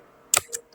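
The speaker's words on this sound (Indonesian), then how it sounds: "Kita akan coba lihat lagi dengan mengetikkan perintah ls" A single keypress on a computer keyboard while typing commands gives a short, sharp double click, close and crisp, in an otherwise quiet moment.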